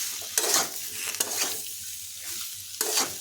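Boiled potatoes are sautéed in a pan for cauliflower singara, with a few sharp spatula scrapes and stirs over a soft, intermittent sizzle.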